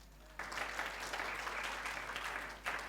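A church congregation at a Sunday service breaks into applause, a dense wash of clapping that carries steadily across the room with no talk on top.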